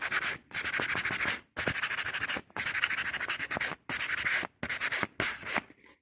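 Sandpaper rasps against pallet wood in steady back-and-forth strokes, close and loud, broken by a few short pauses.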